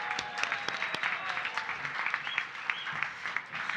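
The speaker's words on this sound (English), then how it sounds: "One more round of applause for this guy." Dense, continuous applause from an audience at a live community crowdfunding event, with sharp individual claps standing out over a steady crowd wash.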